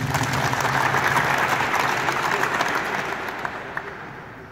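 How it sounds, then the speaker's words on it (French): Crowd applause for a coach at a basketball youth training camp in Casablanca, sustained and dense at first, then thinning and fading toward the end with a few last scattered claps. "je vous demande de l'applaudir."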